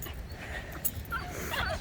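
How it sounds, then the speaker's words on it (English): Several dogs on a beach yip and whimper in short bursts against steady wind and surf noise, fairly close and moderately loud. "we're at the beach and the dogs are going nuts"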